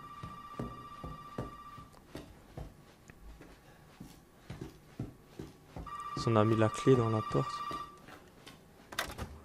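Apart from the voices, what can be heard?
telephone ringing in the Resident Evil 7 demo video game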